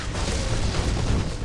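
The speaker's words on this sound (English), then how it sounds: "These are the plasma cannons," Plasma cannons fire in a Dawn of War Unification battle between Tyranids and Blood Angels, a dense rumbling burst of booming blasts that runs continuously and fairly loud for a moment, with no voices over it.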